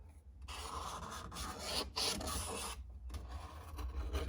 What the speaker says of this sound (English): I'm gonna trace it out.